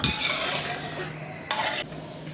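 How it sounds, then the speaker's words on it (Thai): Tamarind sauce mixture for fried vermicelli being stirred in a pan, a steady close scraping and swishing with soft sizzle underneath and a brief clink partway through, no talking. "แล้วก็คนส่วนผสมต่างๆให้เข้ากันนะคะ"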